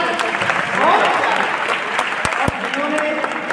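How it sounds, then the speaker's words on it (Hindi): An audience at a teachers' honour ceremony at Swami Vivekananda education college applauds student performers, a dense, close burst of clapping with crowd murmur and a couple of sharp knocks near the end. "एक बार उनके सम्मान में ताली बजा दीजिए।"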